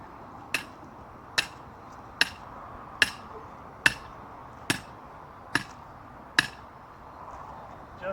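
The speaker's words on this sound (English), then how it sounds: "Then you can hammer." Hammer blows in a garden, eight sharp evenly spaced strikes about a second apart, close and distinct over a faint background hum.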